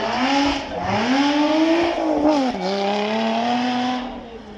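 A Lotus Evora 430 Cup, its supercharged 3.5-litre V6 revving hard on a demonstration run at Beaulieu, rising and dipping through gear changes in a loud, close, sustained roar.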